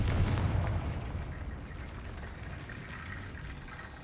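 A Confringo blasting spell explodes in Hogwarts Legacy, a broad, deep rumbling blast that starts loud and slowly tails off into a sustained roar.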